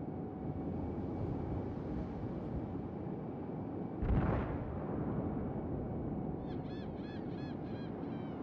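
A single artillery strike explosion lands in a video game, a short, deep boom rising out of a steady rumbling background, followed by faint repeated honking calls.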